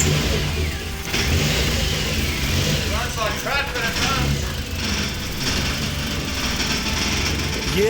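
A Toyota Yaris fitted with a cheap eBay turbo runs and revs, its mid-pitched engine droning loudly and climbing in a few quick throttle blips, mixed with mechanical chatter.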